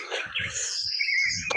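Birds chirp at dawn near a Tamil Nadu check post, with bright, loud, close tweets and whistles running continuously, over a few soft low thumps from nearby.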